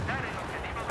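Gunfire in the Battlefield 4 video game on PC, on the Golmud Railway map: a short, dense burst of shooting and blasts that blurs into the surrounding game noise.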